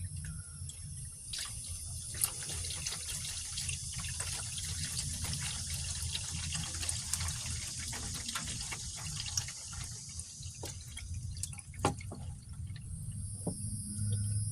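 Engine oil pours steadily from the drain hole of a 2016 Chevrolet Silverado WT with a 5.3L V8 into a pan, a continuous liquid stream with faint background hum.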